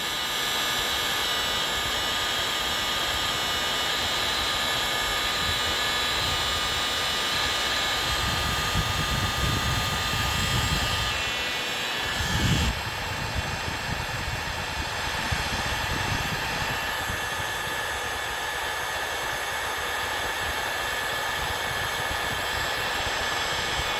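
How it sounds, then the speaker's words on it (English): A heat gun blows a steady, loud whooshing roar while shrinking heat-shrink tubing over a soldered wire connection, with faint handling bumps partway through and the airflow continuing unbroken. "So I'm just going to take and use a heat gun here."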